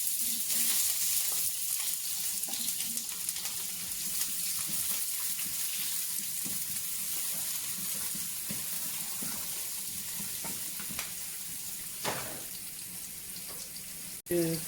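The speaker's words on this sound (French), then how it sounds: "Alors maintenant, je fais griller mes oignons." Onions sizzle steadily in a pan on a home stove for an oxtail stew, a soft continuous crackle with occasional clinks and stirring noises near the end.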